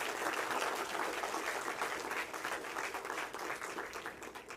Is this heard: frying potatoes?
no